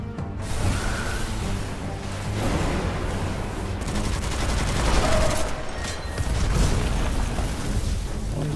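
Rapid bursts of Rotweiver SMG fire in the video game Witchfire, a steady loud automatic rattle running through the whole stretch with game ambience underneath.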